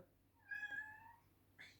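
A pet cat meows indoors in a child's room lit by a star-and-moon night lamp: one drawn-out, fairly faint meow followed a moment later by a short second call over quiet room tone.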